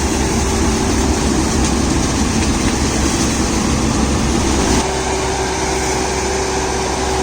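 A New Holland Workmaster 106 HP tractor runs its PTO-driven mulcher through a banana field, producing a loud, steady engine drone with a constant low hum and a broad roar that eases slightly near the end.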